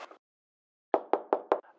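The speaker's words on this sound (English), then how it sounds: "A knock, a knock, a knock. I heard you." Knocking on a door in a 1932 film, heard as a brief sound followed after a pause by four sharp, evenly spaced raps, close and loud, with no talk over them.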